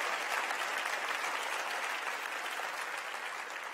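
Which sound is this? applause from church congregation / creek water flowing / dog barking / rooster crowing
applause from church congregation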